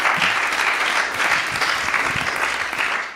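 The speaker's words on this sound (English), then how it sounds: "applause for Adam" Audience applause for a guest actor-producer-writer at a live film festival event, a dense steady clapping from a crowd that holds through the whole stretch at full, even loudness.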